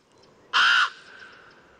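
A raven chick calls once from a nest on coastal rocks in Swedish wilderness, giving a loud, harsh caw that lasts about a third of a second and then leaves a faint trailing echo.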